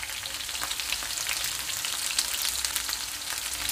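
Peppers fry in hot oil in a pan, giving a loud, steady sizzle with crackling pops throughout, with no talking.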